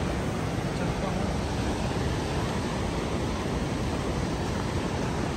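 Water flows near Kharfaq village with a constant rushing hiss that holds steady and close.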